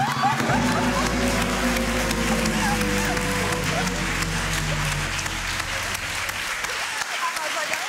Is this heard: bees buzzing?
no